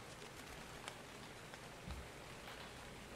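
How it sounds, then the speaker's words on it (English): Rain falls in a dinosaur video game, a steady hiss of drops heard faintly and alone, with no voices. "And of course it's raining."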